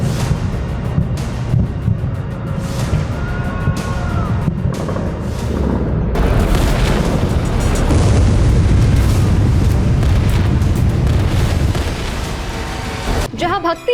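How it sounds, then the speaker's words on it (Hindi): Explosions going off in Tehran during an Israeli attack on Iran, a run of heavy booms and rumbling blasts with a loud sustained roar in the middle and a sharp burst at the end, heard with no talk. "तेहरान में अब धमाके पर धमाके हो रहे हैं"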